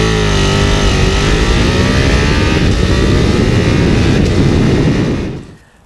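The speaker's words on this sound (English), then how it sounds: "that was a good solid rev. Again, I think almost up to 11, 12 grand" A Ducati twin-cylinder motorcycle engine held at a loud, high, sustained rev up close, a steady raspy roar that drops away abruptly near the end as the throttle is released.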